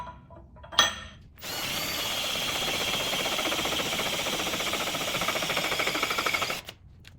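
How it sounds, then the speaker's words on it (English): Steel plow bottom plate on a Brinly one-bottom moldboard plow being drilled with an 11/16 bit, lubricated with WD-40: a steady grinding, chattering drill run of about five seconds after a brief start, close and fairly loud. "I'm just trying to slowly get through this bottom plate so I can drop a 5/8-inch bolt through."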